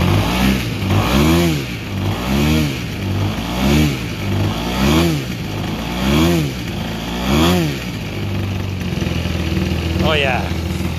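An EME120 engine fitted with JMB Brecka canisters and headers runs through a series of rhythmic, repeated throttle blips, each rev rising and falling loudly and close, with no talk over it.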